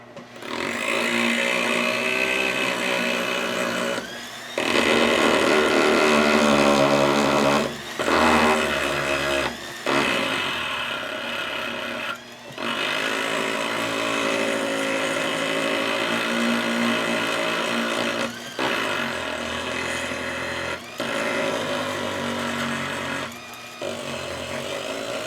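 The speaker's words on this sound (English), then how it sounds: "this is essentially an eraser. It's a rubber bonded abrasive, and touching up those areas to try to get some of that loose plating off." Variable-speed rotary tool fitted with a rubber-bonded abrasive eraser, rubbing loose plating off old parallel pliers; a loud, continuous whirring grind rises and falls in pitch with brief pauses throughout.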